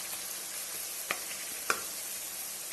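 Ingredients fry in a pan for a fish dish with mustard, ridge gourd and tomato, giving a faint, even hiss with a couple of soft clicks and no talking.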